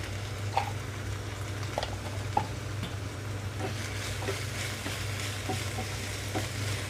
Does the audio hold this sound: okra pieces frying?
yes